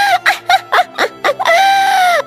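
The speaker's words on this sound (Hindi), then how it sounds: "राजकुमारी अपने भाई को मृत देखकर रोने लगती है।" A princess in a Hindi animated story cries, voiced as a series of loud, close sobbing wails that break into short bursts and then end in one long, drawn-out cry.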